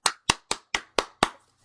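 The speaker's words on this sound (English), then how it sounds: "golf clap to you, sir." Six slow, evenly spaced hand claps in a sparse golf-clap rhythm, sharp and close, with no voices.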